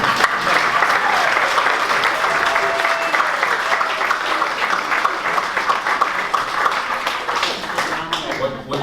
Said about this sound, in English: Let's have one more round of applause for all of our winners tonight